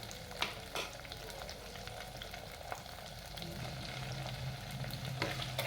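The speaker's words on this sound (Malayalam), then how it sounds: "ഇതിലേക്ക് ഉലുവ ഏകദേശം വഴന്ന് വന്നിട്ടുണ്ട്" Fenugreek seeds fry in hot oil for a tuna curry, giving a soft, steady sizzle close up with occasional light pops and faint stirring clicks, with no voices over it.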